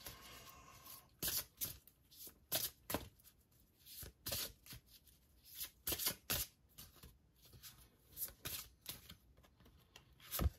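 Oracle cards being shuffled and drawn, with repeated crisp riffling and snapping bursts in an uneven rhythm, close up and with no voice.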